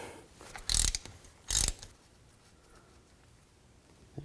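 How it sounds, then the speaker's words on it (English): A ratchet on a 3/8 extension works the rear axle fill plug of a 2000-06 Chevy Tahoe, giving two short, loud bursts of rapid clicking with quiet between them. "So just use a 3/8 extension and a ratchet."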